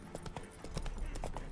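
Horse hooves clop in a quick, steady trotting rhythm in The Witcher 3: Hearts of Stone, a clear close gait with soft background ambience.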